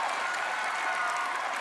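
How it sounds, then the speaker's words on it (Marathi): A studio audience at a Marathi comedy stage show gives brief, dense applause for five lavani dancers, a steady burst of clapping with no voices over it. "जोरदार टाळ्या झाल्या पाहिजेत या पाचही लावण्यवतींसाठी"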